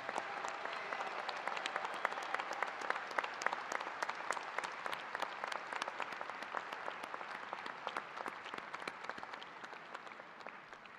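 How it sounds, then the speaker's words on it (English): Sustained audience applause at a university commencement ceremony, with dense, even clapping from a large crowd that holds steady for the full stretch and fades slightly toward the end. "Let's give another round of applause to the mothers in the audience and all of the family members and guests."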